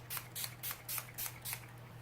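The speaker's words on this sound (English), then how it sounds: "I like to use a setting spray just to lock everything in" Six short, even bursts of fine makeup setting spray mist, Essence Keep It Perfect Makeup Fixing Spray, in a steady rhythm, close and soft, with a low hum underneath.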